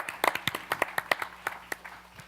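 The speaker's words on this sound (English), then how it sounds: "What a round of applause for Sandy Baru and his team" Sparse, uneven clapping from a small conference audience, a scattering of separate hand claps that thins out over a couple of seconds, fairly quiet and heard with no talking.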